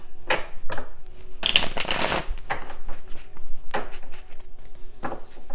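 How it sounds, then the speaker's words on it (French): A deck of cards is shuffled by hand in several quick riffling bursts separated by short pauses, close and crisp, with no speech. "Alors, je brasse un peu hein, quand même."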